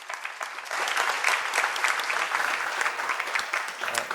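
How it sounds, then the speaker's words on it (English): An audience at a talent show audition applauds Brother Asif, a lively crowd clapping with distinct individual claps at moderate distance, building quickly and staying steady. "A big round of applause"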